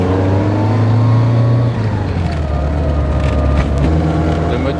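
A Lotus Elan's engine drones steadily from inside the car while driving, shifting pitch as it changes revs, with a voice speaking over the continuous engine noise.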